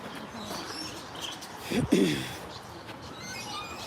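Birds chirp and coo in an animal park aviary over steady background noise, with one closer, louder call near the middle.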